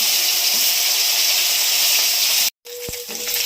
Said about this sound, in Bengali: গরম হয়ে গেছে মাছ দিয়ে দিয়েছি